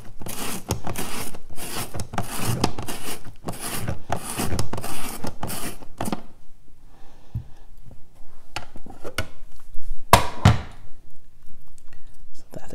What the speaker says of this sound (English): So let's check out the ribbon slicer here with a cucumber.